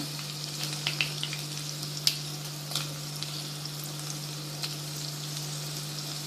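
Steady sizzle of garlic frying in hot oil, with a few sharp pops and crackles, close and continuous, no voices.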